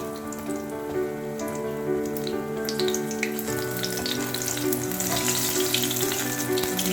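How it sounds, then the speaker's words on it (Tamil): Cauliflower pakoda fritters frying in hot oil, a steady close sizzle with crackling bubbles throughout, growing slightly brighter and busier in the second half. "சிம்லேயே வச்சு சுட்டா அந்த காலிஃப்ளவர் பூரா நல்லா வெந்துடும்"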